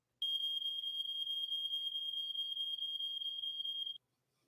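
A smoke alarm set off by overdone food in the oven sounds one steady, piercing high-pitched tone that holds for nearly four seconds, then cuts off cleanly into silence.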